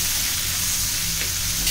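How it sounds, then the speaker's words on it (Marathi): Tofu with mixed vegetables stir-frying in a pan gives a steady, fairly loud sizzling hiss that barely changes, with a faint scrape near the end and no voices. "आता हे छान आपण 3 ते 4 मिनिटं फ्राय करून घ्यायचं."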